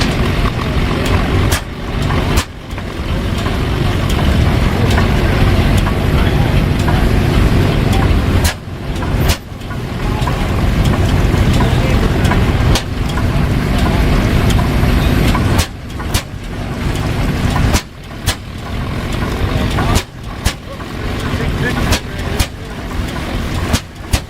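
Five old two-cylinder kerosene oil pull tractors, each rated 60 horsepower on the belt, run loud and steady with a dense engine rumble, broken by a few brief dips as they crank up together for a world-record attempt.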